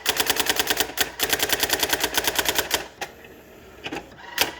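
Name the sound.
Brother GX-6750 electric typewriter typing a test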